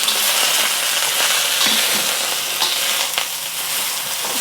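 Broccolini sizzling in hot oil in a wok, a loud steady hiss of frying with occasional scraping stirs and small pops, close and continuous throughout.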